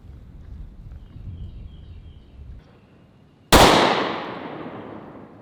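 A handgun firing 124 grain +P Federal Premium HST ammunition: a single sharp, loud report that decays quickly after a few seconds of faint outdoor ambience.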